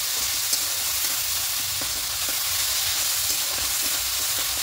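Ginger and green chilli paste fries in a hot pan and is stirred in, giving a loud, continuous hiss and sizzle with faint scraping taps underneath and no talking.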